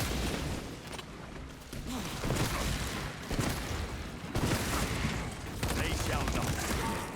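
Heavy, sustained gunfire and booming blasts from a Warhammer 40K Space Marine video game, dense and continuous across the clip, with a voice speaking over the battle.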